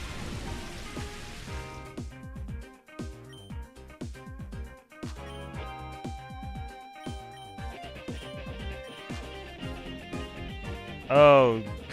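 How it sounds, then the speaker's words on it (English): In-game rain in Pokemon XD: Gale of Darkness hisses as a steady patter, strongest at the start, under tuneful battle music and chiming game effects. "It's raining."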